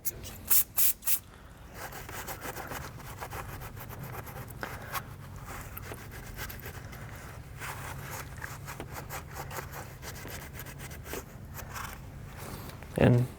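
A rag soaked with carb or brake cleaner wiped over the intake manifold area of a MK7 Volkswagen GTI engine, giving a steady, close scrubbing rustle with a few sharper knocks at the start and end.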